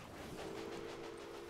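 Train running in the railway management game Railway Empire, a steady low rumble with a sustained tone, quiet and continuous without speech.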